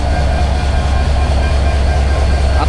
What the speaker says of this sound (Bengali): এটি হচ্ছে আমাদের আজকের যাত্রার লোকোমোটিভ